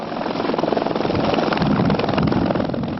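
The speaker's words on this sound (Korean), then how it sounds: "점검을 마친 헬기가 곧바로 하늘로 떠오릅니다." Helicopter lifting off at Gimpo Airport after its checks: a steady, loud rotor thrum with fast chopping pulses over a broad engine whine, continuous and close throughout.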